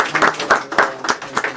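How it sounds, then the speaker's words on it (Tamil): A church congregation at a Tamil Sri Lankan New Year service claps together, a loud room of hands beating in rough rhythmic bursts, alone without talk. "இன்றைக்கு அவருக்காக நாங்கள் கைத்தட்டி வாழ்த்தி இருக்கிறோம்"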